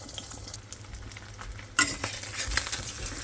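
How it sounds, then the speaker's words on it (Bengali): Two eggs fry in a pan with a soft, steady sizzle and a brighter crackling burst partway through, close and fairly quiet over a low background hum. "ডিম ভেজে নিতেছি দুইটা"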